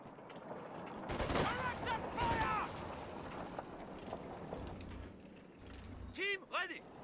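Rapid bursts of gunfire crackle through a real-time strategy match, with repeated volleys and sharp shots sitting under a commentator's steady talk.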